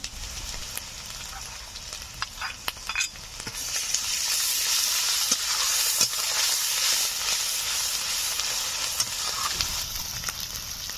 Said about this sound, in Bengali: পেঁয়াজগুলো হালকা ভাজা ভাজা হয়েছে, এখন দিয়ে দিচ্ছি আদা রসুন বাটা।